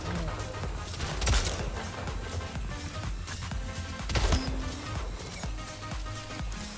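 Rapid gunfire in the Splitgate video game, dense bursts of shots and impacts with two louder blasts, running steadily under game sound effects.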